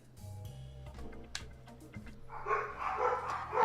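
Dogs in Xenoblade Chronicles bark in a few sharp, scattered yelps over a low game music drone, followed by a rising burst of busier barking and yipping toward the end.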